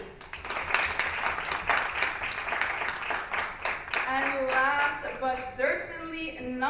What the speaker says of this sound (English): put your hands together in a massive round of applause for Dario Kulic